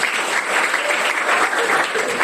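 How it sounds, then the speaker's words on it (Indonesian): A classroom of students in a music lesson applauds at the end of class: dense, continuous clapping from the whole group, fairly loud and close, sustained without a break and with no talk. "Tepuk tangan buat kita semua."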